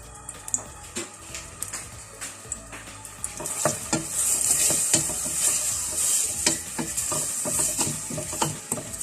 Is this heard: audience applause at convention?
no